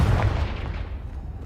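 A Confringo spell exploding in a Harry Potter video game: a single short, low rumbling blast that starts loud and quickly fades into a dull tail.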